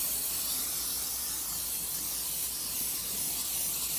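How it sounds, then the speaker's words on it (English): Cooking spray hissing steadily from an aerosol can onto two baking pans, a continuous close-up spray lasting several seconds with no talk. "I'm going to spray my pans,"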